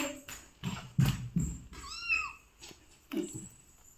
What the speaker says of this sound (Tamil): என் பூனை குட்டி கத்துது